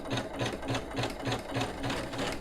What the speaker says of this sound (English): I'm going to use the foot pedal to stitch my basting